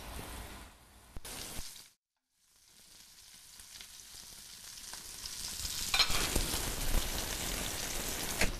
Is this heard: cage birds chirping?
no